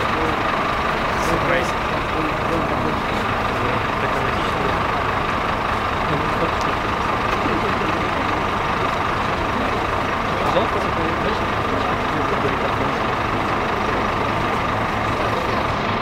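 New LiAZ buses running at a crowded suburban bus stop, a steady engine rumble and traffic drone filling the scene throughout, with voices of people talking mixed into the noise.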